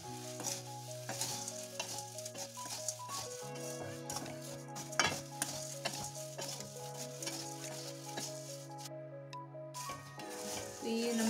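Poha chivda namkeen is tossed and stirred in a kadhai, with faint scraping, rustling and light metallic clinks over a quiet, steady sizzle, while soft background music plays throughout.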